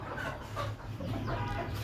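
Desi chickens kept in a cage cluck in short, scattered calls at close range, with a steady low background hum and no talk.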